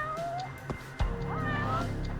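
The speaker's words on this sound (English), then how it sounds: "Oh, it's a stray cat." A stray cat in the video game Judgment gives a couple of short rising meows over soft game background music, with a thud in between.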